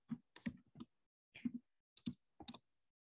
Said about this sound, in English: I'm bad with typing.